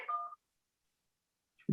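A quick burst of telephone keypad dialing tones while calling a New York number, clear and close, followed by a long silence and then the abrupt start of another sound at the very end.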